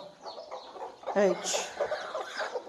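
Native country hens cluck as three of them fight over chicks, giving short, bursty calls close by under a person talking.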